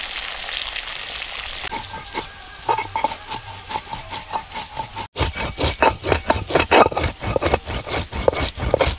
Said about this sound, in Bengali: এদিকে তো আমি সবজি ভাজছি